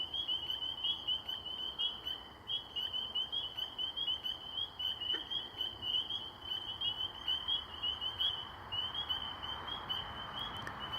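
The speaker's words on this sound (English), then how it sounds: "the green frog sometimes gets called a banjo frog, just because it sounds like somebody plucking an elastic band or plucking a banjo" A late-May night frog chorus in Maine, including green frogs with their plucked, banjo-like notes, pulses faintly and rhythmically from a distance over a steady high trill, with no voices.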